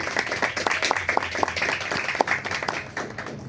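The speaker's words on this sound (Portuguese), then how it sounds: "Pode aplaudir a palavra do Senhor" A church congregation claps after the reading of the word of the Lord, a moderate, slightly uneven round of applause with individual claps standing out, fading toward the end.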